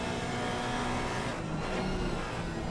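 Porsche GT4 race car lapping Brands Hatch in a qualifying session, a steady loud engine drone that holds for the whole stretch with a brief dip midway, nearby and alone without talk.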